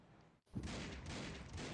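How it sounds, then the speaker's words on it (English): Rapid gunfire from a Critical Ops match in a tournament, a brief dip and then a dense, sustained burst of overlapping shots that stays loud and continuous. "A lot of gunfire going on."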